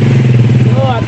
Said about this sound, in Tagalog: Ito yung aming tricycle.